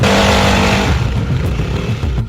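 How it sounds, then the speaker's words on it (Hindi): Motorcycle engine revving loudly up close then pulling away, a steady roaring drone that eases slightly as the bike rides off. "उसी समय सामने से शर्मा सर अपनी मोटरसाइकिल पर आते हैं।"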